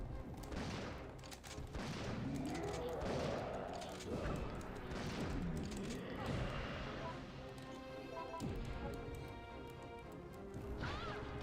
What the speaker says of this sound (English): Okay, I gotta shoot him. I gotta shoot him fast.